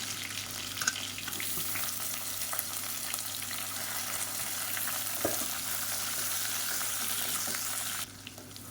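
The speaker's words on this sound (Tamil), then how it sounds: "இப்போ இது எல்லாமே பொரியுது" Steady sizzling of sliced onion and spices frying in hot oil, a constant crackling hiss close by, with an occasional stir and clink near the end.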